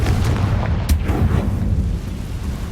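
A Confringo fire spell detonates in Hogwarts Legacy, giving a loud, booming blast with a heavy low rumble and a sharp crack near the middle that fades over a couple of seconds.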